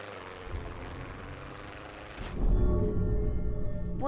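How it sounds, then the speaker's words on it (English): Airplane engine in a video game flight, a steady droning rumble that jumps noticeably louder and heavier partway through, then holds as a continuous close roar with no voices. "Very jittery plane."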